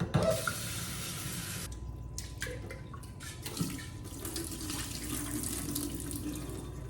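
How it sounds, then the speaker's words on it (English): Tap water runs into a sink while sprouting seeds are rinsed, a steady splashing flow that changes tone as the stream hits the seeds and container, close and moderately loud, with no talking. "I'm going to rinse 2 more times."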